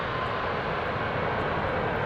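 A game airplane's engine drones steadily, a constant broadband roar with no change in pitch or loudness, heard on its own.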